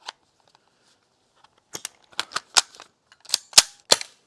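A gas-powered airsoft gun on a fresh gas canister fires into a chronograph, a series of about eight sharp, close pops spaced irregularly after a brief click.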